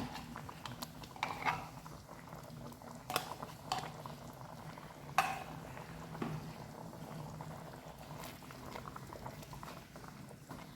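Panchamrutham mixture with ghee simmering and thickening in a pan, a soft continuous bubbling and sputtering with scattered small pops, close and fairly quiet, no talk.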